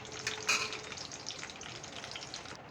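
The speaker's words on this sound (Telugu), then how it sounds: "చూడండి పచ్చిమిరపకాయలు అన్నీ వేగిపోయినాయి." Green chillies and curry leaves fry in oil with a faint, steady sizzle and crackle, with a slightly louder burst of spitting near the start and no talking.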